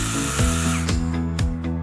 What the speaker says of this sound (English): Brushless Lithium Chainsaw.